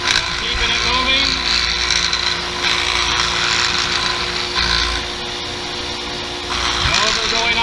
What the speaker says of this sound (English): I come in with light pressure, keeping it moving, sanding down to my line.